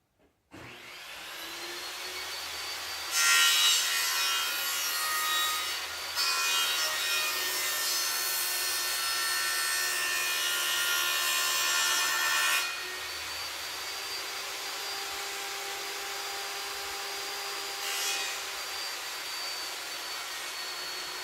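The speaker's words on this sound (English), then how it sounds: "I'm just going to shave off a little piece, and then I'm going to rip it down the middle." A wooden board being ripped down the middle for a rustic pond gate, with a power saw whining steadily and cutting loudly for about ten seconds before spinning down, close with no talk.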